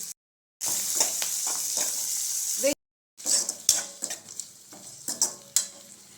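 Onions and dried red chillies sizzle in a pan for mutton uppu kari, a bright frying hiss broken by cuts and followed by the knocks and scrapes of stirring, close and fairly loud.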